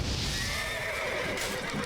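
A horse neighs and whinnies in Baldur's Gate 3, with hoof clip-clop mixed in, the sound steady and fairly loud across a brief moment of gameplay.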